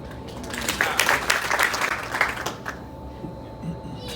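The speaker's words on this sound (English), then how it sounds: "Let's clap it up for that." A small gathering applauds a recovered father holding his daughter Olivia at a Black fathers event, a brief burst of clapping swelling and fading over a few seconds with some voices mixed in.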